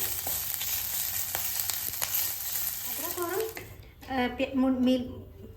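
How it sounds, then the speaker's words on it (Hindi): Ginger and green chili sizzle and crackle steadily in a hot pan, close up, with a voice speaking over the frying toward the end. "अदरक और हरी मिर्च का इसके अंदर भून करके कच्चापन निकाल लेना है।"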